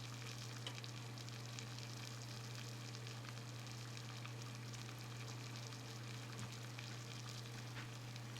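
Homemade marinara sauce simmering in a pan on the stove, a quiet, steady low sizzle and faint bubbling under a constant electrical hum, with no voices.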